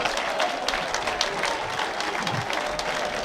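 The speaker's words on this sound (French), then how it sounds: "on peut applaudir monsieur le préfet qui porte le masque de l'armée de terre" Outdoor crowd applauding at a National Day of Wounded Army soldiers ceremony on a public square, steady dense clapping throughout at moderate loudness with no talk over it.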